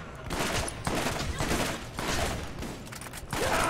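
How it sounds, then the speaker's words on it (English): Enemy gunfire in the shooter video game Borderlands, dense overlapping bursts of shots crackling continuously and loudly throughout, with no voices. "Yeah, they're shooting at us."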